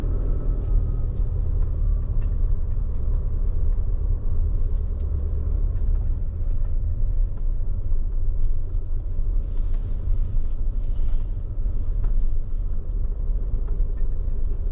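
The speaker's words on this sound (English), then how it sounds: "Another truck coming out behind us by the sound of it." A steady low rumble of a truck engine and tires on a rough dirt road continues throughout, fairly close, with no voices.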